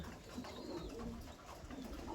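Pigeons in a loft of a Kahramanmaraş flock, with steady low cooing and soft bird calls filling the space, close and continuous without any talk.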